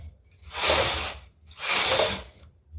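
A knitting machine carriage makes two sweeping passes across the needle bed, each a loud rattling, hissing clatter lasting about a second with short quiet gaps between, close up and with no voices.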